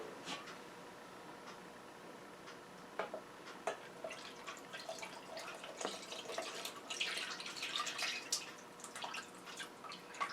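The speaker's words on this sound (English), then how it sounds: "we're just going to pour the broth out into the strainer" Turkey broth is poured into a strainer while cooking a Thanksgiving turkey, giving a faint, uneven trickle and drip of liquid with scattered splashes that grow busier toward the end.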